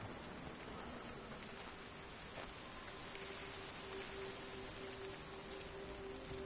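Rain falls steadily in the video game Everyone's Gone to the Rapture, a soft, even hiss that never lets up, with a faint sustained tone drifting underneath.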